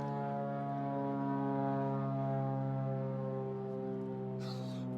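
A steady, droning engine hum of an airplane passing overhead near an airport in Port Angeles, loud and constant throughout, with a brief hiss near the end.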